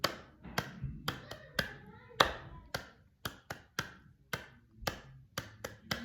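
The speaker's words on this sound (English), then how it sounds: "did you guys do okay on the clapping?" Preschool children clapping along to a simple song, sharp separate claps in an uneven rhythm, close and fairly quiet, with a little soft voice between them.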